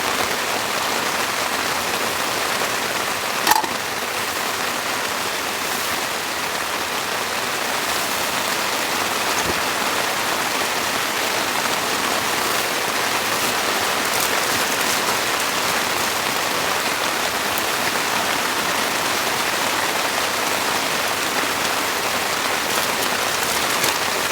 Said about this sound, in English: This rain is insane.